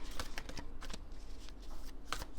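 Rapid crisp riffling of a deck of cards being shuffled, several quick bursts of flapping clicks close by, with no talking.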